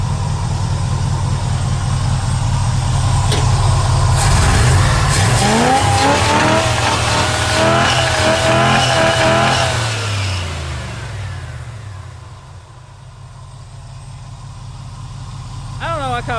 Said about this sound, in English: How come it's backfiring a little bit?